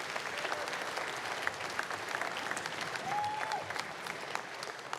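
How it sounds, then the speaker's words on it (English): Conference audience applauding at a male achievement event, a dense, steady wash of clapping from a large crowd throughout, moderately distant, with faint voices and a brief tonal whistle-like sound mixed in. "You can clap them up."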